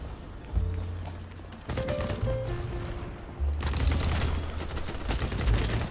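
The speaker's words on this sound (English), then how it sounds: "I thought I killed that guy, so I stopped shooting." An Ultimax 100 light machine gun firing in BattleBit Remastered, heard as rapid automatic bursts that start and stop in a few stretches, loud and close, with other battle noise behind.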